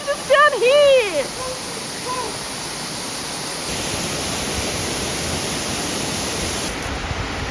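Waterfall in the Blue Mountains on a rainy day, a steady broadband rush of falling water that carries on throughout, with excited shouting and voices near the start.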